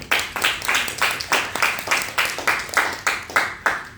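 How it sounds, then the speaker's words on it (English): Applause at a meeting: a small group claps in a steady, regular rhythm of about three claps per second, close and fairly loud, with no talking over it. "So let's give her a round of applause as well."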